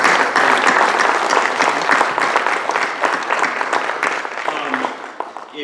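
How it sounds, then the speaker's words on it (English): An audience gives panelists a loud, sustained round of dense applause that tapers slightly near the end. "let's give them a round of applause"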